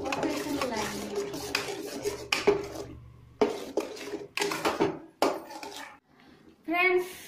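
A spoon scrapes and clinks in a pan as paneer masala is stirred into a matar paneer curry, with repeated metallic scraping strokes and brief pauses, close by, and a voice speaking near the end.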